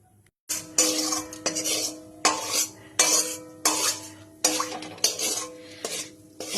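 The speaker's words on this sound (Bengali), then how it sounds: "ঘিটা চারিপাশে আমি একটু নাড়াচাড়া করে নিচ্ছি।" A metal spoon scrapes and clanks against a wok while melted ghee is spread around it, a close, repeated series of ringing metallic strokes about every half second after a short quiet start.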